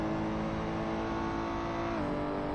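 Ferrari 488 GT3 race car engine in Assetto Corsa at Silverstone, a loud continuous harmonic drone that shifts in pitch partway through as the car accelerates.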